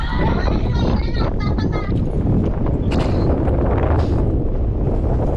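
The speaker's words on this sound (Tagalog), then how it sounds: "maalon maalon dahil malakas ang hangin" Strong wind blasts against the microphone at a seaside fishing spot in Jeddah, Saudi Arabia, roaring steadily and loudly with choppy waves beneath, while someone talks over it.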